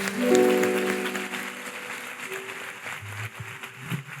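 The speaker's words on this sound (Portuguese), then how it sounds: "Vamos aplaudir o nosso Deus bem forte." Congregation applauding at a Brazilian church service, a dense wash of clapping over a sustained organ or keyboard chord that fades, with the applause thinning toward the end.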